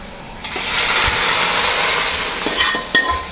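A curry leaf tempering poured into Malabar chicken stew, a sudden loud hiss of sizzling that holds steady with small pops and clinks of a utensil.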